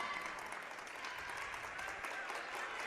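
A crowd at a girls' high school basketball game applauds in a steady, dense wash of clapping that stays even and moderately loud throughout.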